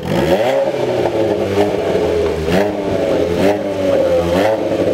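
An Abarth car accelerates hard and pulls away, its engine revving loudly through rising and falling gear sweeps, close and dominant throughout with no talking.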